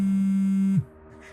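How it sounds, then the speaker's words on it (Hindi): A mobile phone rings with a single steady electronic tone, fairly clear, that cuts off abruptly after under a second, leaving a quiet room. "फोन किसका बजा है?"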